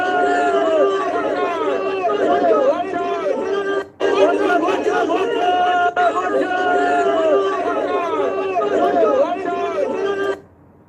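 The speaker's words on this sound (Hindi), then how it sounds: "उधर मोदी जी का काफिला निकल रहा था, खूब भीड़ है, इस भीड़ में लोग टाटा बाय बाय कर रहे हैं।" A large street crowd cheers and shouts as Modi's convoy passes during the Bengal election, a loud, continuous roar of overlapping voices and yells with brief dips.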